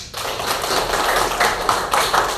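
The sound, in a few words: clapping for Fitri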